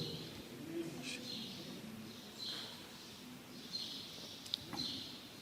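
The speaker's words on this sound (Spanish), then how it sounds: "Mira, los pajaritos están alegres." Birds chirp in short, faint bursts over a steady background hiss, outdoors during a church gathering.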